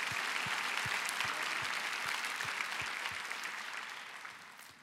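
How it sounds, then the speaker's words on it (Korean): Church congregation at a Korean Daniel prayer meeting applauds together, a broad, bright wash of clapping in a large hall, with a few soft low thumps underneath as it slowly fades toward the end. "주님께 영광의 박수를 올려드리고 싶습니다."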